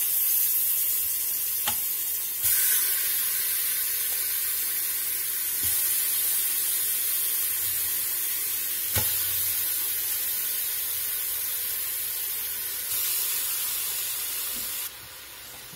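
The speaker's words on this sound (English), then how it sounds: "We're just going to let these sear a few minutes on each side, do a batch at a time till we get them all browned up." Pork shoulder pieces searing in olive oil in an Instant Pot, a steady loud sizzle and hiss throughout with occasional faint clicks, no voices.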